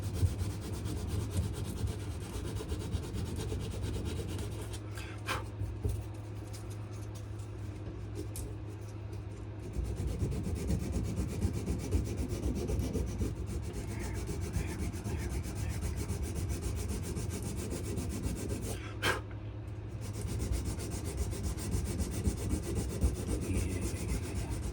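Abrasive paper rubs back and forth over a wooden knife handle in steady sanding strokes, close and continuous, with a brief pause in the middle and a couple of sharp knocks.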